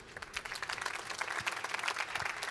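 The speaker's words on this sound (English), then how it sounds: "Round of applause for our speaker." Conference audience applauding a speaker at a programming event, a steady wash of many hands clapping from a moderately distant crowd, continuous and even throughout with no voices standing out.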